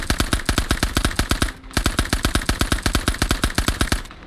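Sten submachine gun in a video game firing in two rapid full-auto bursts, sharp evenly spaced cracks with a brief pause between them, loud and close.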